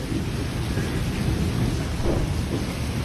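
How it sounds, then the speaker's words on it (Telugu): Heavy rain pours steadily outside a house onto waterlogged ground, a parked car, a tractor and plants, a dense, loud, continuous roar with low rumbling throughout and no voices. "వర్షం పడుతుంది."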